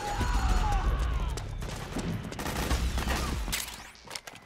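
Dense video-game gunfire from Metal Gear Solid 4, a sustained fusillade of rapid shots and bursts filling the whole stretch, loud and close at first then slightly thinner, with shouted voices mixed in.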